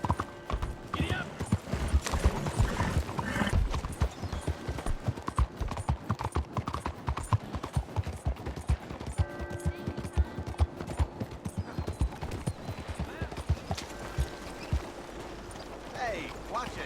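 A horse's hooves trot in Red Dead Redemption 2, a dense, close, continuous clip-clop with a steady rhythm that runs throughout alongside faint game sounds.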